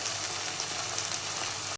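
Curd poured into hot tempering with green chillies in a clay pot, a steady loud hiss and sizzle lasting under two seconds before cutting off abruptly.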